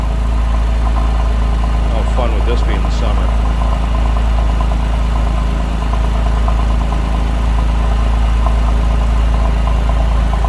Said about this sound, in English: Nice little throaty exhaust note.